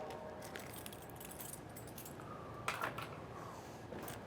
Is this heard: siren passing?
no